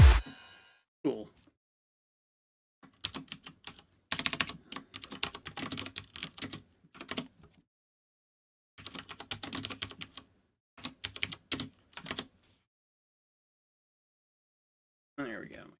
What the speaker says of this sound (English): My keyboard was at a weird angle to type on.